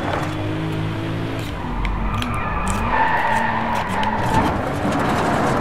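A car drifting in the DRIVECLUB racing video game, with a steady engine drone and long tire squeals and skids that rise and fall through a corner, continuous and fairly loud.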